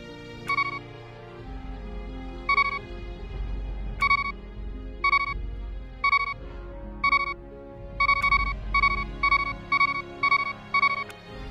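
Bright electronic beeps from the Legend of Zelda low-health alert, used as a World of Warcraft add-on alert, sound in short repeated bursts over a low droning background, the pattern quickening toward the end like an urgent alert.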